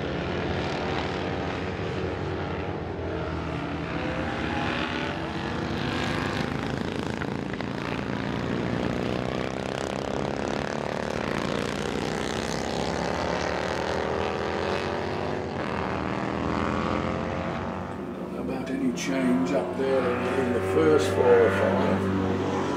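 Sidecar motorcycles race past during a historic sidecar event at Winton, their engines making a continuous loud droning roar with shifting pitch over about twenty seconds. A commentator talks throughout.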